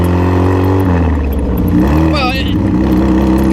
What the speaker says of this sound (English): It's just that the engine noise just dominates everything.